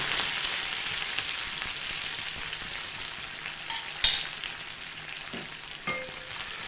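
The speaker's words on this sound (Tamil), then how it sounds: "அடுத்தது சின்ன வெங்காயமும் கருவேப்பிலை மல்லி இலை கொஞ்சம்" Shallots, curry leaves and coriander leaves frying in oil for fish curry, a steady close sizzle with occasional light knocks of a stirring spoon.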